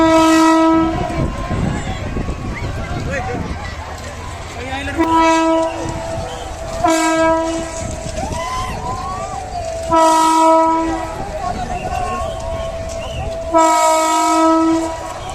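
A passenger train pulls into Janakpur Dham railway station in Nepal, sounding repeated loud horn blasts over rumbling wheels and rail noise, with crowd chatter around it.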